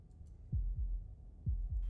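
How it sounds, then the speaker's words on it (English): Heartbeat from the horror visual novel Slay the Princess: two deep, muffled lub-dub double thumps about a second apart, low and booming over a quiet ambient hum. "That was the sound of a heartbeat"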